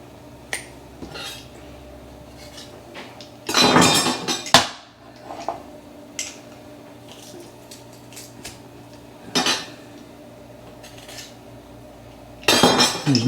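A kitchen mincing tool crushes food for a pork tenderloin in a few loud, scraping bursts with sharp clinks in between, separated by quieter gaps and light handling noise.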